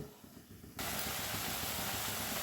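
Spices (cumin powder, coriander powder, Kashmiri chilli powder, green chilli) frying in a pan as they are cooked down, a quiet start giving way to a loud, steady, broadband sizzling hiss that continues without pause.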